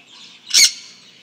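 A pet bird lets out a single sharp, loud squawk in the morning, close by, with only faint quiet around it.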